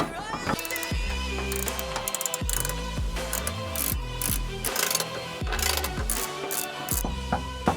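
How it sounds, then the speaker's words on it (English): Skid plate bolts on a Tesla Model 3/Y are run in with a ratcheting tool, giving close, repeated bursts of ratchet clicks with brief pauses between them and a voice talking intermittently over them. "Don't tighten them all the way, just tighten them pretty tight."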